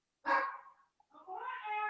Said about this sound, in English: Oh, you have to excuse my dogs.